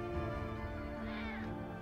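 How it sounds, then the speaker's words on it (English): A family of cats meowing in Final Fantasy VII Rebirth, a drawn-out meow rising and falling over a steady game backdrop, close and clear. "And back here's the cat family."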